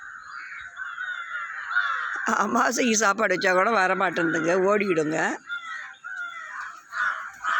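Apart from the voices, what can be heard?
crows cawing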